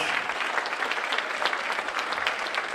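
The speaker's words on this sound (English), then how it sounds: "One more round of applause for our graduating seniors." An audience at a high school senior awards night applauds graduating seniors with a short, lively spell of dense clapping.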